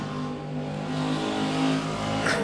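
A motorcycle passes close by outdoors, its engine a steady, fairly loud drone that swells slightly as it goes past, with no talking.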